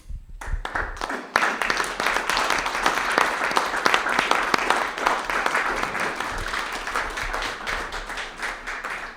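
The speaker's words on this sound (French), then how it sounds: "Je voudrais lui adresser un applaudissement." Conference audience breaks into applause after a brief pause, a dense wash of clapping that holds steady and then slowly thins out.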